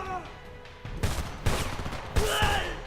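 Gunfire in the video game Homefront: several loud bursts of shots in quick succession, with rapid automatic fire near the end, sounding close.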